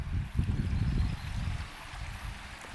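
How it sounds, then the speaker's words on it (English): A creek runs through a rainy woodland spot, giving a soft, continuous low gurgle and rush of water, fairly close and unbroken, with no voices. "we have that creek that runs through"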